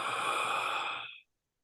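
A single long, forceful breath rushes out close by during conscious breath work, holding steady for about a second before cutting off into silence.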